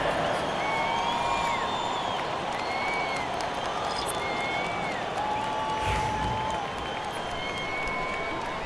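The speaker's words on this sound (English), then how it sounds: "Another cheer for your young Bucks dancers. Give them a hand, fans." Dense, steady crowd applause with scattered whistles and cheers fills a Milwaukee Bucks arena in NBA 2K25 basketball, greeting the Bucks dancers during Pistons vs Bucks, continuing loud and unbroken throughout.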